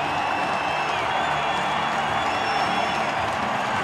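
A large baseball crowd of over 33,000 at Miller Park applauds and cheers Trevor Hoffman, a steady roar of clapping heard from within the stands.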